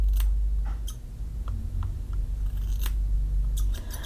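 Freshly sharpened shears make a few short, crisp cutting snips at irregular intervals, close by and fairly clear against low background rumble.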